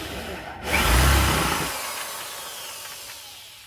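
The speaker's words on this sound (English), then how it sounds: "just countersink this out until we match" A drill countersinks a hole in a brass portal part for an MJX H8H RC car, giving a short close whirring grind that swells and then fades into a lighter spinning hiss.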